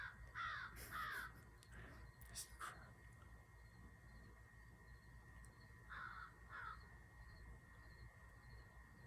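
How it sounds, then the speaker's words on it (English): Crows cawing outdoors, a few harsh caws in quick pairs early on and another pair a few seconds later, moderately distant over faint ambient noise. "Fucking crows, man."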